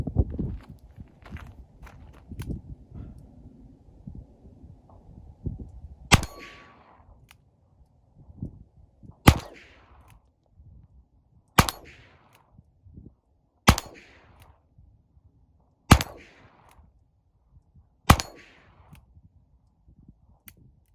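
A Ruger Single Six .22 pistol fires six evenly spaced shots, each a sharp crack followed by a ringing clang from the steel plate downrange, after some quieter handling noises at the start.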